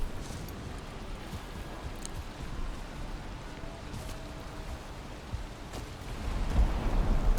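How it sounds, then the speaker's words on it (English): Steady rain from the survival video game Valheim, a continuous soft hiss of falling drops with a few faint splashes on top. The rain swells and grows heavier near the end, and no one speaks. "It seems to be raining so much at the moment."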